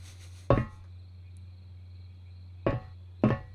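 Three clanking footsteps on a ladder rung in an indie horror game, each sharp and metallic, spaced unevenly over a quiet low hum, with no voices.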